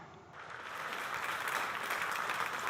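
Applause from a group of people, steady broadband clapping that rises after a brief quieter start and holds at a moderate level for a few seconds, with no talk over it.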